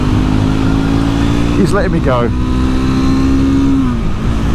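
A Triumph Scrambler 400X motorcycle engine drones steadily while riding on a dual carriageway, with wind roar throughout and a rider talking over it.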